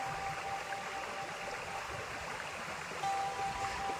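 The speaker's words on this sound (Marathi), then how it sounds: "इकडे तुमका आवाज येत असतो पाटाचं" Water runs steadily through an irrigation channel among rice paddy fields by a farmhouse in Shirvande village, a continuous broadband rush heard close and alone, with a faint tonal hum joining near the end.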